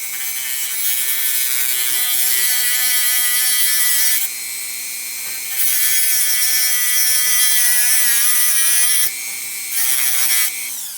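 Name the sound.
power tool cutting into emergency brake cable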